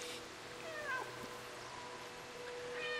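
A cat in the game Stray gives a few drawn-out, rising meows, moderately close against a faint background hum, with a short pause before another call near the end.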